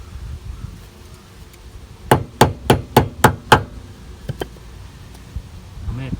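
Six sharp hammer strikes in a steady, quick rhythm, close and loud, followed by a few lighter taps amid quiet background rustling.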